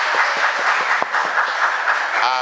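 A church congregation applauding after the preacher, a dense wash of clapping close up and continuous for a couple of seconds.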